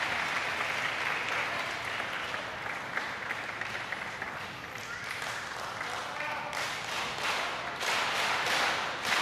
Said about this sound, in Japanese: ひときわ手拍子が大きくなってきました